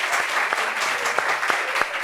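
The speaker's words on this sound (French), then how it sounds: "Applaudissements pour lui" Studio audience applause on a French talk show set, a steady wash of clapping from many hands with a few sharper claps rising out of it, loud and close, with no talk over it.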